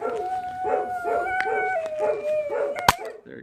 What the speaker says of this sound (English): Oh, now he's howling. Now he's joining the pack.